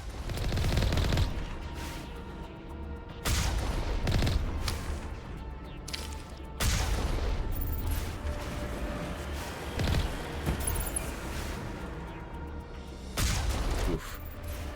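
Sniper and gunfire shots aimed at a tank in the Mass Effect video game, played on Insanity difficulty: repeated loud bursts of shots in clusters, with an ongoing rumbling battle texture between volleys.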